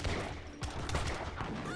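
Organ guns fire a volley in the video game Age of Empires 3, a dense rattle of overlapping gunshots over battle noise, brief and moderately loud.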